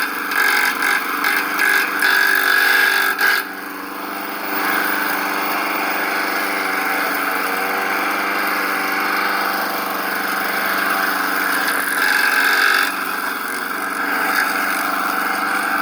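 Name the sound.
lawn mower running with bent blade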